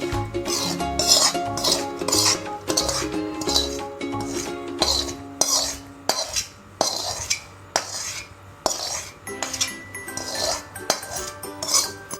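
Pickle masala being mixed into lemon pieces for Maharashtrian lemon pickle, with a spoon scraping and clinking against a metal bowl in a repeated, rhythmic pattern of loud scrapes, no voices.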